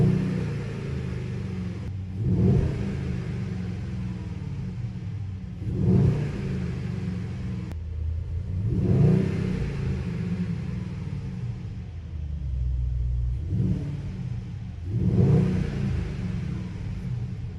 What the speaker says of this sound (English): Now let's listen to the V8 of this.